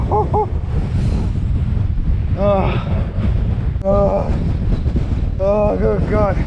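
Strong gusts on the Wales Coast Path between Whitesands Bay and Porthclais buffet the microphone with loud, continuous roaring wind, while people exclaim and talk over it.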